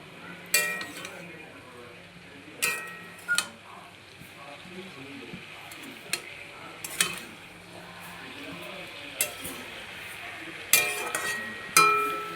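A utensil stirs fried vegetables and bottle gourd greens with turmeric and salt in a pan, giving irregular sharp metallic clinks and scrapes over a faint sizzle, spaced out over several seconds.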